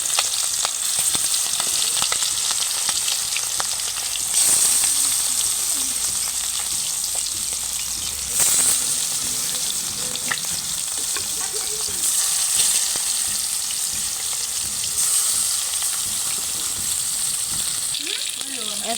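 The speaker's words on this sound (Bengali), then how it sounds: "মেরিনেট করা মাংস এখন ফ্রাই করে নেব।" Marinated chicken sizzles steadily in hot oil for a chicken roast, a close, continuous crackle with occasional stirring scrapes and brief louder bursts over about nineteen seconds.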